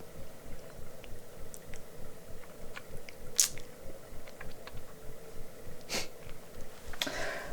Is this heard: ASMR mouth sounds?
yes